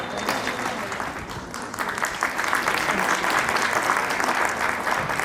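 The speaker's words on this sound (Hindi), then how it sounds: "जोरदार तालियों से स्वागत कीजिए।" Warm applause from an audience of grandparents, teachers and students at a school event welcomes the principal, continuous dense clapping that swells slightly midway and holds steady, with no speech over it.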